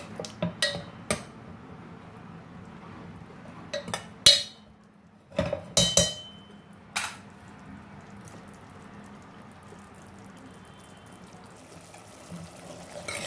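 A spoon clinks and scrapes in a pan while dal wadis are broken up and roasted: scattered sharp metallic knocks in short clusters over a faint quiet background, without talk.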